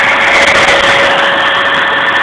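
A Dyson Mini Turbine Head vacuum tool with its agitator spinning runs at full power, a loud, close, constant motor whine with airy hiss and no change in pitch.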